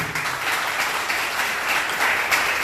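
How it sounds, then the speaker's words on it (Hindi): A congregation at a church gospel service applauds, producing a continuous, even wash of many hands clapping at moderate loudness with no speech over it. "एक बार ताली बजा दें इनके लिए"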